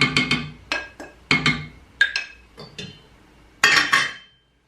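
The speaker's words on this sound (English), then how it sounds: "Give it a quick stir." Grated zest is stirred into an infusing custard mixture for crema catalana, giving a run of sharp, separate clinks and taps of a utensil against the pan, close and fairly loud, with brief pauses between strokes.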